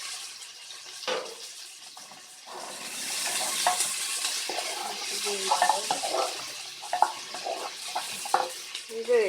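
Chicken and onion being stirred in a pot without water, a soft steady sizzle with scraping spoon strokes and light clinks, close and moderately quiet, no talking.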